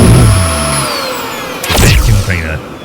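A video game vacuum cleaner whirs steadily as it sucks things up, a loud continuous roar with whooshing pitch sweeps and small sucking blips layered over game music.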